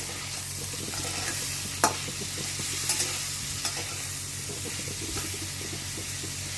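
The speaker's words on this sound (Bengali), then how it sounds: "চিংড়ি মাছগুলো লাল লাল রং ধরে নিয়েছে, পেঁয়াজ একটু ভাজা ভাজা হয়ে গেছে।" Prawns and onions for chilli prawns frying in a pan, a continuous close sizzle and hiss with a few light stirring scrapes and clicks scattered throughout, no voices.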